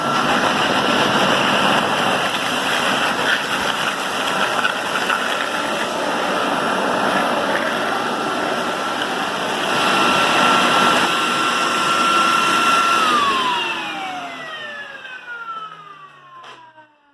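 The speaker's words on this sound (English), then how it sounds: "I was trying to vacuum this rug" A HART wet/dry vacuum from Walmart runs loud and steady on a rug with a whining, whooshing drone for several seconds, then switches off and its pitch slides down as the motor winds to a stop.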